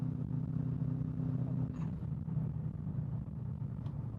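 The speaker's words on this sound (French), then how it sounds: "c'est le bruit, le vrai bruit Subaru quoi" A Subaru WRX STI 7 Prodrive, tuned to Stage 2++ with 370 horsepower, cruising at about 90 km/h with a steady low engine rumble heard from inside the car, constant and unbroken.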